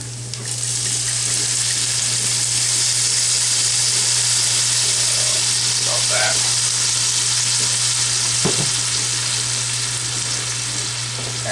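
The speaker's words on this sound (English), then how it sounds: "And I'm going to deglaze, get that fond off the bottom." Red wine poured into a hot skillet to deglaze it, giving a loud, steady sizzle that hisses throughout with a few faint scraping knocks near the end.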